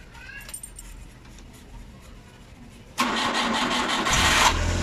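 A Suzuki DA63T Multicab, just fitted with a new battery, stays quiet with faint clicks of keys and handling. Then its engine cranks and fires abruptly, settling into a loud, steady idle close by.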